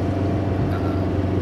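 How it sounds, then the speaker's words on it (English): Low, steady engine rumble with a droning exhaust note from a vintage Volkswagen Beetle 1303, continuous and moderately loud, heard from inside the car at talking volume. "you still can hear a little bit of the exhaust sound"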